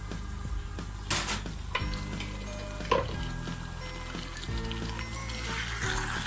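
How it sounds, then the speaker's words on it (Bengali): Boiled, peeled small potatoes stirred into beef frying for Bangladeshi tehari, a low sizzle with repeated scraping strokes and a few knocks of the spoon against the pot, no voices. "ওইটা আমি এখন এই মাংসের সাথে মিক্স করে দিলাম"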